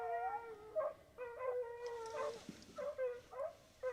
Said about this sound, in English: What's everybody barking at?